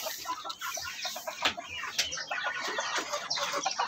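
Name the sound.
chickens clucking, native chicken hen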